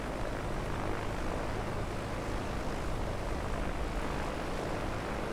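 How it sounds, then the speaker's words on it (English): Steady, deep, rumbling drone of a piston propeller engine on an A2A Comanche light aircraft in a flight simulator, constant and unbroken with no voices. "The Comanche sounds are very realistically rich and deep"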